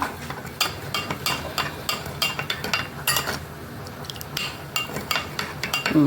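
A utensil stirs salt and black pepper into pomegranate molasses in a pan, making a steady series of light metallic clinks and scrapes at close range, with no voices.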